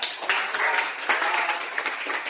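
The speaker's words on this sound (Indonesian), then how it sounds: "Mari kita berikan tepuk tangan untuk kita." Students clapping together in a classroom lesson, a brisk, fairly close burst of many hands with uneven individual claps standing out, continuing steadily throughout.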